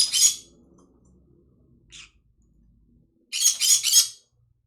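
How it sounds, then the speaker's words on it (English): Pet birds squawk in two bursts, a short harsh cluster at the start and a rapid run of three loud squawks near the end, with a faint call between them and quiet room noise in the gaps. "Because you're pretty birds."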